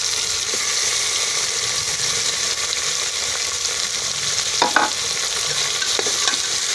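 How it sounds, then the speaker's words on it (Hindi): Chicken and tomato frying in a pan for shorba, with a steady, close hiss of sizzling oil and a few brief scraping stirs partway through. "चिकन को अच्छी तरह से फ्राई करेंगे।"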